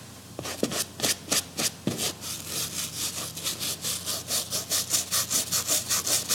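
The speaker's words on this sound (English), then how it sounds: "You're going to just lightly scrub it off so it's not on there when you actually apply the cleaner." A brush scrubs loose dirt and dust off a boot in fast, rhythmic back-and-forth strokes, close and steady, each stroke a dry rasp that settles into an even pace.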